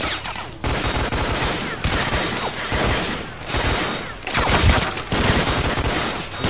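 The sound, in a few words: gunfire in the video game STALKER Clear Sky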